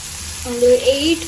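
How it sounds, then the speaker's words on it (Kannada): Small fish pieces hitting hot oil in a pan and starting a brief, close sizzle with crackling, over a faint background hum. "ಈಗ ಅದೇ ಪ್ಯಾನ್ಗೆ ಸ್ವಲ್ಪ ಎಣ್ಣೆ ಹಾಕ್ಕೊಂಡು ಫಿಶ್ ಫ್ರೈ ಮಾಡ್ಕೊಳ್ಳೋಣ"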